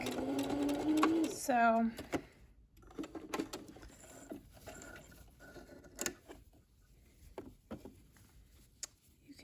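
A home sewing machine runs a short line of stitching about a quarter inch across a seam on wrap pants, then backstitches. Quick mechanical clicking and patter follow a brief spoken word, close and fairly quiet.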